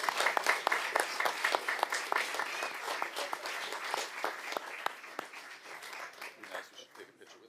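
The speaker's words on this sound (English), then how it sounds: "can we give a round of applause for our Birchwood Boosters?" An audience at a school board of education meeting applauds the Birchwood Boosters, giving a steady round of clapping from a crowd in a room that slowly thins and fades over about seven seconds.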